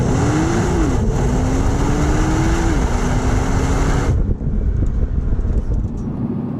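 A 2020 Nissan GT-R Nismo V6 with titanium exhaust revs hard, its pitch climbing in steps through shifts before a sudden cut, leaving a rough, windy rumble afterward.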